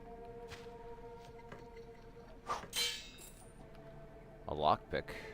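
Coins clink and clatter in the fantasy video game Dread Delusion, a couple of short bright metallic bursts over quiet game ambience and background music.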